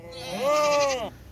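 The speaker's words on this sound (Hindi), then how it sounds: "बकरी देखें नवाब बकरी है माशाल्लाह" A nanny goat with three young kids, kept for milk, gives one clear, close bleat lasting about a second against quiet background noise.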